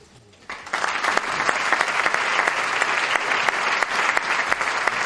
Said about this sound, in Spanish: quiero recibirlo con un fuerte aplauso